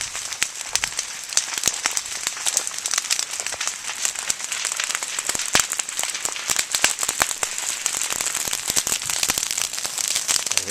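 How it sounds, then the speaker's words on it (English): A savanna grass fire burns close by, with dense, irregular crackling and popping of burning leaves and grass over a steady rushing roar, loud and continuous with no talking. "leaves burning all around me here as I walk"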